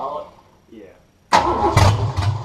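A Ford Falcon's engine fires up loudly after a quiet stretch and holds a rough, rumbling idle with throttle blips while the idle is being set, with voices talking nearby.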